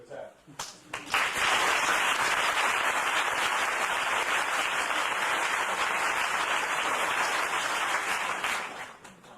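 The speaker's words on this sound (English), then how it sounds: "I don't know why you guys applauded after that last speech" Sustained applause from a large crowd at a debate, starting after a brief moment and holding steady and loud for several seconds before tapering slightly.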